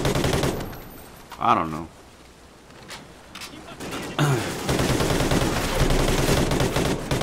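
Bursts of rapid gunfire from the video game Call of Duty: Ghosts crackle in repeated volleys, loud and close, with a player talking over and between the shots.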